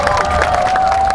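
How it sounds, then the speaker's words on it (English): A crowd at a navy open house at Changi Naval Base applauds and cheers uniformed navy performers in a brief, dense burst of clapping and voices, loud and close. "I think they deserve a bigger round of applause"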